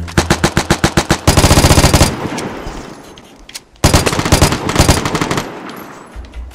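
Rapid automatic gunfire from the video game Vigor, loud and close: a clipped string of single shots speeds into a sustained burst, then a pause, then another long burst that trails off.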